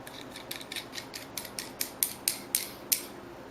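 A screw on an Altoll Glock sight pusher V1.5A being threaded, heard as a regular series of about a dozen small clicks and ratchet-like ticks, growing slightly louder and more spaced, close by with no talking.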